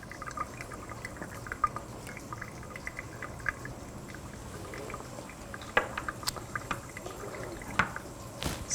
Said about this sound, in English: I'm going to pour my reaction mixture in and leave the anti-bumping granules behind